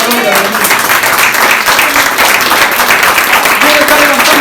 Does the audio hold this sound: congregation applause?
yes